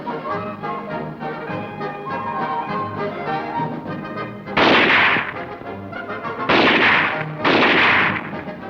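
Gunfire at a military ski and shooting meet, with three loud, broad bursts of shots heard over a steady music bed, each lasting about a second.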